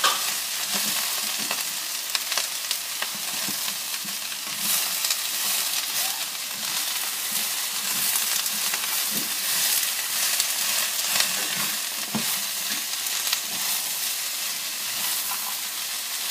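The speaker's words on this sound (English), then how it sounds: "Good way is to hold one side of your wok and just slowly scoop around the vegetables" Vegetables stir-fry in oil in a wok, a steady loud sizzle and hiss lasting throughout, with faint scraping and occasional clinks as they are scooped around the pan.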